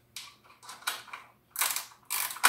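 A ratchet socket wrench removes a bolt on a Briggs and Stratton small engine. It gives several short, close bursts of rapid clicking, separated by brief pauses, and no one speaks.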